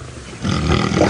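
Lionesses growl at dawn near their cubs, a low, rough rumbling that swells from quiet into a louder, grating roar-like growl over about a second.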